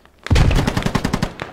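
A PKM machine gun fires close by in the Squad game, a loud rapid burst of about a dozen sharp, evenly spaced shots lasting over a second, heard alone without talk.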